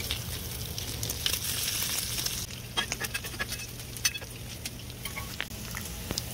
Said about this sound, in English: Now that these onions and peppers are starting to saute a little bit, get translucent